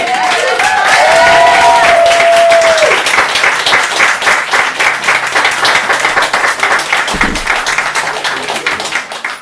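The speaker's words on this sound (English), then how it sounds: "we can't go home without giving Kaya one more round of applause" Loud, sustained applause from an open-mic poetry night audience, with dense rhythmic clapping that holds for several seconds. Tonal sounds and a few voices drift through the start.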